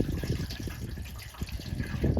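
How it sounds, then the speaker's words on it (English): Water running down a hill into a pond and spilling over a dam, a continuous close gushing and trickling flow with irregular splashes and no voices. "the force of that water coming down the hill pulls the water in the pond up over the dam and down"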